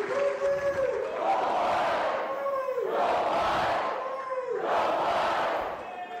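A large crowd at a university varsity letter jacket ceremony cheers and roars in three swelling waves, loud and close, with shouted voices rising and falling.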